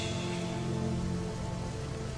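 Steady rain falls and patters on surfaces, a dense even hiss that carries on without a pause. It sounds close and moderately soft, with no voices.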